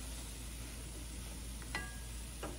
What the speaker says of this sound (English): I'm going to go ahead and add the mushrooms now so they can cook and give up some of their juices